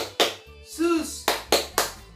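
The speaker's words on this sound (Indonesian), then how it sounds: "Tepuk Yesus." A group claps in time during a children's Sunday school worship service, with a few sharp, evenly spaced hand claps mixed with short chanted voices.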